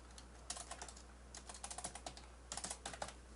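Quiet, close tapping on a computer keyboard comes in short rapid bursts of keystrokes with small pauses between them, as text is entered into a box. A steady low hum sits underneath.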